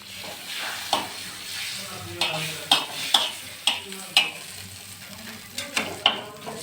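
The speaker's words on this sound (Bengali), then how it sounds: "মাখনটা গলে গেলে এখানে দিয়ে দেবো তেজপাতা।" A bay leaf sizzles in melted butter in a pan for homemade carrot halwa, with a soft, continuous frying hiss. About a dozen sharp scraping strokes from a stirring spoon sound at fairly regular intervals over the sizzle.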